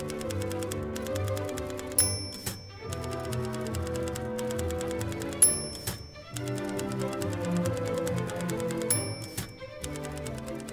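Orchestral music built to mimic a typewriter, with a steady pulse of tonal chords under rapid percussive key-like clacks and a bright bell ding that recurs every few seconds, moderately loud and with no voices.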